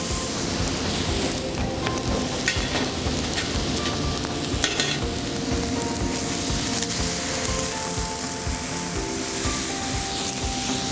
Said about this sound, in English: I'm gonna kind of drain off that liquid from my tomatoes and let it deglaze.